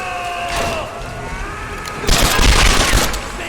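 A video game explosion in Tomb Raider Definitive Edition bursts in with a loud, rumbling crackle after a stretch of tonal game sound and continues for over a second.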